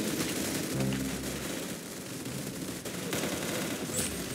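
Rapid gunfire in a video game, a continuous dense rattle of shots with heavy low rumble, loud and steady throughout.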